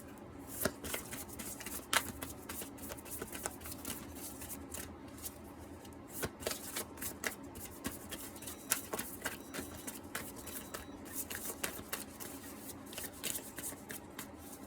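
Tarot cards shuffled by hand, a soft steady stream of riffling flutters and light slaps at close range, continuing with brief pauses and no talking.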